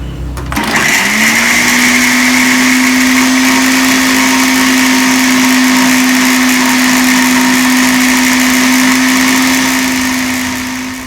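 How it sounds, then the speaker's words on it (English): A big blender whirs into action on fresh turmeric root, spinning up within a second to a loud, steady, high-pitched whine that holds constant for about ten seconds before easing slightly, with no talking. "For now, I'm going to use this big blender."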